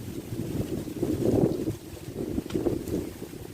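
Steady outdoor wind buffeting a microphone at a rural Thai farm where a large buffalo is being examined, a continuous low rushing with gusts swelling and fading, no speech over it.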